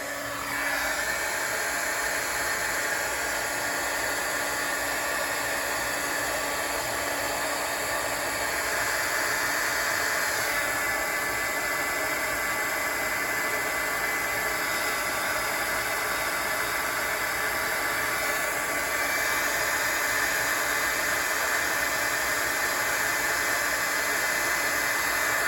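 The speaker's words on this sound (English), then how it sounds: "And get my heat gun going here." A heat gun blows hot air in a continuous, loud, even whoosh with a steady high whine, holding without pause throughout.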